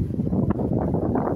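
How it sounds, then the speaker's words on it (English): Steady, rough wind noise buffets the microphone throughout, a continuous low roar with small gusty swells. "God, it's windy."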